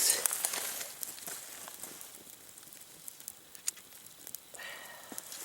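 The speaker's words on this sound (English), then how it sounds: "Nice little fire going there." A small campfire burns at a winter hammock campsite, giving faint, scattered crackles and pops over a soft hissing background with no voices.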